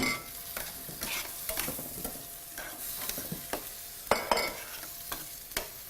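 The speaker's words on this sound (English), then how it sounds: "So I'm going to go ahead and add this marinade in there" Marinade hits a sizzling beef and broccoli stir fry, flaring into a bright sizzle, then steady frying crackle with repeated scrapes and knocks of a stirring utensil against the pan.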